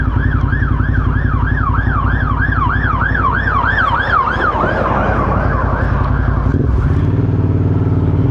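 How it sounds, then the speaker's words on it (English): A fire engine's wailing siren sweeps up and down loud and close over a low engine drone, then cuts off near the end as it passes. "and there's another fire engine coming."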